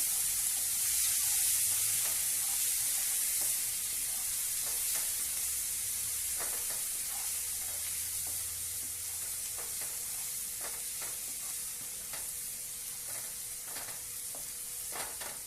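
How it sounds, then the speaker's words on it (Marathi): Onion and tomato fry and sizzle in a pan for a Marathi-style birdya (field bean) fry, with a steady hiss throughout and repeated scrapes and clicks of a spoon stirring the mix. "कांदा आणि टोमॅटो घालायचा आहे दोन्ही एकदम घातले तरी चालू शकेल चांगलं परतून घ्या"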